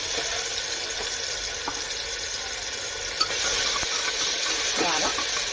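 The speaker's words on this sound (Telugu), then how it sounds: "బాగా ఫ్రై చేసుకోవాలి." Whole spices, cardamom and cinnamon, fry in oil with ground masala for a jackfruit biryani, giving a soft, steady sizzle and hiss with occasional stirring clicks, under a speaking voice.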